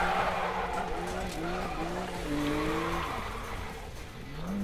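A Nissan Skyline R34 drifts in a racing video game, its tires skidding in a long continuous squeal with wavering pitch over a steady engine drone, loud and close throughout.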